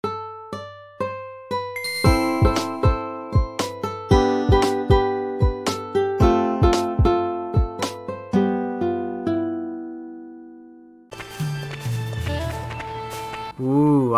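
Game music from Xenoblade Chronicles 2 Torna plays a sequence of bright, bell-like plucked notes over low tones, then breaks into a denser, shimmering passage near the end.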